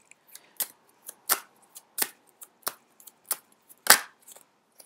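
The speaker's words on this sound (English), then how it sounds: "I need to stop being so aggressive with my shuffling." An oracle card deck is shuffled roughly by hand, with a series of crisp irregular snaps and flicks of the cards, close and clear, separated by short quiet gaps and no talking.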